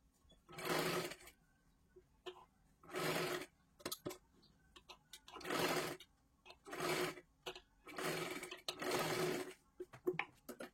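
A sewing machine stitches around a blouse neckline in about seven short, separate bursts with quiet gaps and small handling clicks between them, close and fairly soft.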